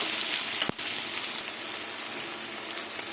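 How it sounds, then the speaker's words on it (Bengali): Tomato and onion frying in hot oil, a steady loud sizzle that runs throughout, with one brief scrape or knock early on. "টমেটো আর পেঁয়াজ কিছুক্ষণ তেলে মানে একটু ভেজে নেবো"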